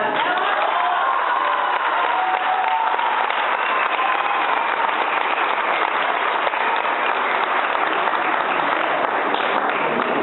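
An audience at a political party gathering in Estado de México gives steady, continuous applause mixed with some cheering for the full length.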